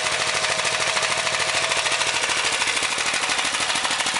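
A custom motorcycle built around a Honda race engine runs continuously, throwing out loud, rapid staccato firing pulses in an unbroken, machine-gun-like rattle. No one speaks.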